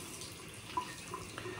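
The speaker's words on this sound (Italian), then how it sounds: "E sciacquiamo la ciotolina." A small shaving bowl is rinsed under a running tap, a soft, steady trickle of water with a few faint clinks, quiet and close.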